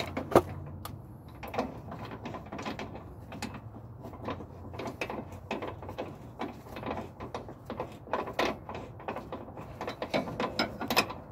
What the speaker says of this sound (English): thread in enough to get my ratchet on the back of it.